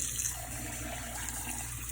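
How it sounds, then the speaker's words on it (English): Hot tap water runs steadily into a kitchen sink while rice is kept warm: a constant, even hiss and rush, close and unbroken, with no voices. "So I have hot water going."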